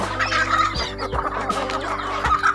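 Chickens on a rural Thai farm clucking steadily, several birds close by with repeated short clucks and occasional louder calls, no talking.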